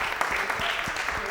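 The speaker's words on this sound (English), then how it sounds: "There they go. Nickel T cheering them on." A quiz show audience cheers and claps for a correct answer at a charity trivia event, a brief, dense burst of applause and cheering.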